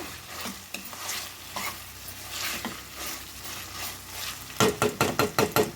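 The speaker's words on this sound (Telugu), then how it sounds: "చూడండి, చక్కగా వేగిపోతుంది" Onion masala for pepper chicken frying in a pan, crackling in a steady sizzle, then a run of quick rhythmic stirring scrapes near the end.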